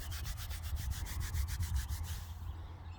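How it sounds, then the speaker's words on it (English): A metal-detected coin found by a riverside is rubbed briskly against trouser fabric, giving a close, even series of about a dozen scratchy strokes with no talking. "And just give it a rub on my trouser."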